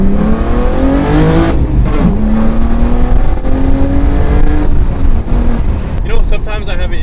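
BMW G87 M2 fitted with a titanium exhaust, revving loud and close with rising and falling engine tones, a raw straight-pipe-like rasp throughout.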